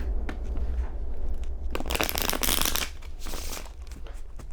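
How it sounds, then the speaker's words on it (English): A deck of tarot cards is shuffled by hand, a loud crisp riffling burst in the middle, with softer card rustles before and after. "one more shuffle."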